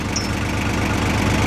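A tractor engine runs steadily at close range beside a heavy oak log being moved to a sawmill, a continuous low chugging drone with no voices.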